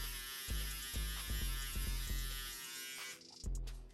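An electric shaver buzzes steadily while tapering a low-taper haircut, close and alone, with brief pauses and restarts as it touches the skin before cutting out near the end.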